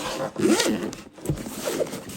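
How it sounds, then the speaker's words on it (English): A zipper pulled along a DJI Mini 4 Pro drone carrying case, one single-zip closure, close and fairly loud, with a rasping sweep that rises and falls over about two seconds and has no talk over it. "No, it was just one zip on this."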